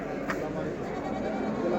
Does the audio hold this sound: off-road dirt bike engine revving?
no